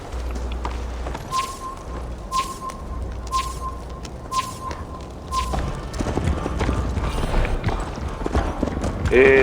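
Horse hooves gallop in a video game set around Jorvik, a fast, repeating clip-clop that runs for several seconds among other game sounds.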